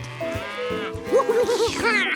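A cow lows in drawn-out, wavering moos close by, with soft rustling underneath.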